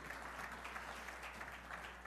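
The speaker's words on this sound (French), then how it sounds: "On l'applaudit aussi encore une fois" A crowd applauds steadily at a quiet, distant level during a religious talk, with a continuous wash of hand claps and no talk over it.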